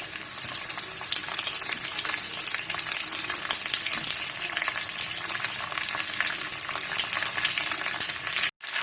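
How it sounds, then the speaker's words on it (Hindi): A Spanish omelette topped with tomatoes fries in a pan over a lowered flame, giving a loud, continuous, close sizzle that cuts off sharply at the end. "थोड़ी सी देर फ्राई होने के बाद अब इसके ऊपर डाल देंगे टमाटर"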